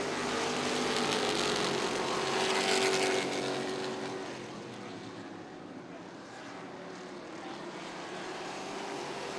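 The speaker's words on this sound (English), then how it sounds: "Green flag back in the air. We are back racing with Chad Champion, your leader." Limited stock cars racing around an oval track, a loud continuous engine roar that swells and fades slightly as the pack passes, with no speech.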